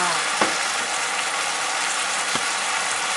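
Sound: stir-frying grouper fish

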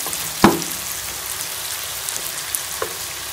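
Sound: chicken and tomatoes frying in a pan

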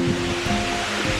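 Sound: Pha Rado waterfall, Phu Hin Rong Kla

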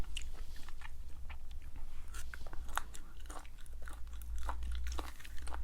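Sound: chewing stir-fried chicken gizzard

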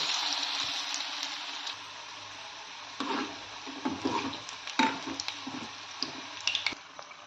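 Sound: bread manchurian pieces frying in oil

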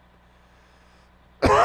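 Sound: coughing

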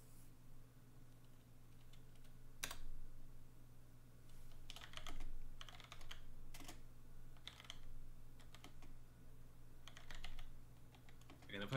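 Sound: typing on a computer keyboard

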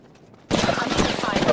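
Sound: gunfire in the video game Apex Legends

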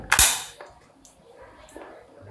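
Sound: AK-47 rifle gunfire

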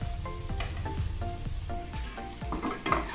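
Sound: ingredients frying in pan for butter chicken

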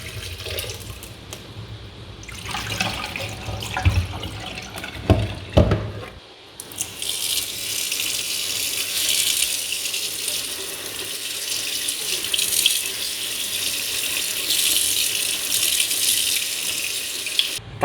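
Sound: running tap water melting ice off a phone

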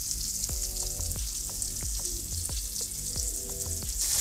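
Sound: chicken searing in a pan

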